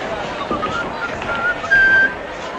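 A man in a Western saloon whistles a short, high tune, heard briefly over low room noise and murmur.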